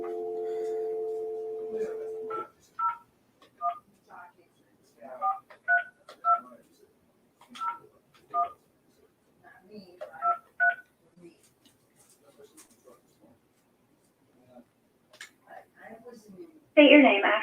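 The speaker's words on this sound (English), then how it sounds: "just start dialing" Telephone keypad dialing tones: a dial tone opens, then a quick irregular series of short DTMF beeps punctuated by pauses, ending in a brief burst of noise.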